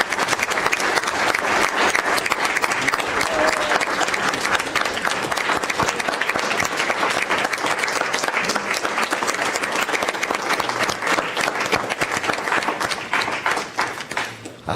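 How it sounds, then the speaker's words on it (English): Sustained applause from a city council meeting audience, a dense wash of many hands clapping steadily for about fifteen seconds before tapering off near the end. "I don't get that many claps at church."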